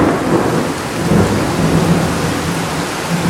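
A lightning storm brings a low, rolling rumble of thunder over steady, heavy rain drumming on surfaces, continuous and fairly loud with no voices.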